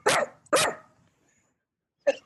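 A dog barks twice in quick succession, loud and close, then gives one more bark after a short silence.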